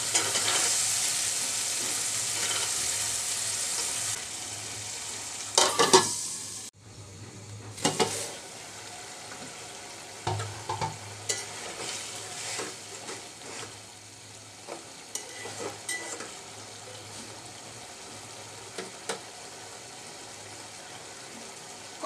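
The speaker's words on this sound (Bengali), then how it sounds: "এখন আমি বিচিটা দিয়ে একটু কষিয়ে নেব।" Shelled lima beans sauté with shrimp in a hot pan, a soft steady sizzle broken by scraping stirs and a few clinks of the spoon against the pan.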